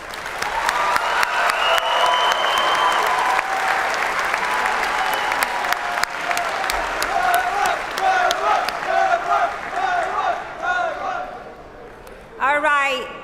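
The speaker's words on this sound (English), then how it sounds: "One more round of applause." A large crowd applauds graduates at the University of Michigan-Dearborn spring commencement ceremony, sustained loud clapping with some cheers, tapering off as a voice speaks over the fading applause.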